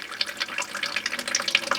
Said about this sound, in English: I'm draining the line out into a bucket right now.